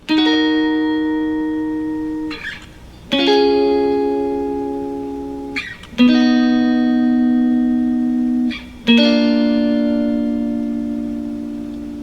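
Clean electric guitar strums four sustained chords, each struck about every three seconds and left to ring and fade, with a touch of reverb.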